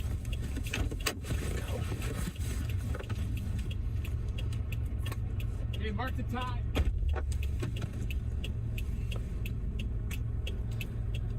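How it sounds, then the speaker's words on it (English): Hail roars on a car with its engine off during a tornado chase in the Texas Panhandle: a dense, continuous loud rush throughout, with someone speaking briefly over it. "Listen to the hail roar."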